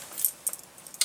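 A bunch of house keys and keychains on a chain jangles in a few quick, bright bursts, close and fairly soft, with no talk.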